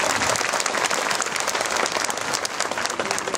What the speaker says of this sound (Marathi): त्यामुळे जोरदार टाळ्या